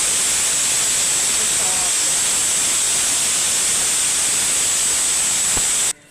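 Spicy crab fry sizzles in a pan with a loud, steady hiss that runs unbroken and cuts off abruptly at the end, with a faint voice briefly underneath.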